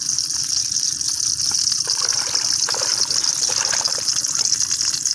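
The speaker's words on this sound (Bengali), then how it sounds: "এর ফাঁকে আমি বেগুনগুলো ধুয়ে নিই" Eggplants being rinsed under running water, a steady close gush and trickle of tap flow splashing continuously over the vegetables without pause.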